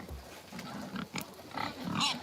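Pigs grunting and snuffling together on a sunny off-grid homestead while their water trough is filled, a steady noisy crowd close by with splashing and outdoor background sound.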